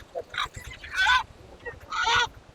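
Native country chickens at a busy Sunday market in Gauribidanur let out three short, harsh squawking calls, moderately close, over a steady low rumble of crowd noise.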